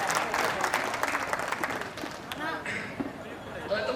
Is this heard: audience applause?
yes